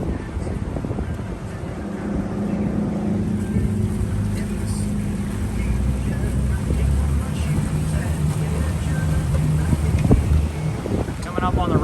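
Motorboat cruising through a no wake zone on the Matanzas River near St. Augustine, Florida, its engine a steady low hum under wind buffeting the microphone, with someone talking over it.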